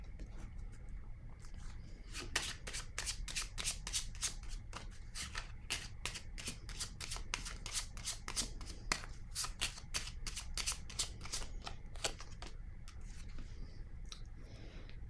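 Tarot cards shuffled by hand, a rapid series of crisp riffling snaps and soft slaps close by, continuing steadily over a quiet room background.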